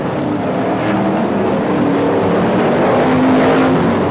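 BriSCA F1 stock cars racing at Northampton, a dense continuous roar of several engines at close range, loud and unbroken with no talk.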